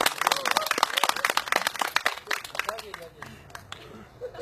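An audience claps at a community candlelight gathering in Seongju: a dense burst of many hands that thins out and fades after about three seconds, with a speaker's voice over it.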